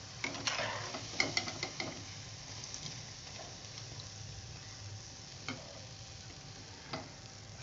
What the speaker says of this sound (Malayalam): ബാക്കിയുള്ളതും കൂടി ഞാൻ ഇതേപോലെ വറുത്തെടുത്തിട്ട് വരാം കേട്ടോ.